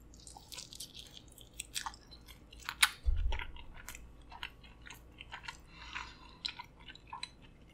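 Close, wet chewing and crunchy bites while eating flaming hot king crab and elote corn, irregular mouth sounds and soft crunches for several seconds with no talking.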